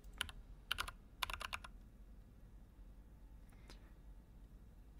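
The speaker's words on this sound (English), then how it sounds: "Click the keyboard." Computer keyboard keys clatter in the video game Gimmick, a few quick clusters of crisp clicks in the first two seconds, then near silence with one faint later tap.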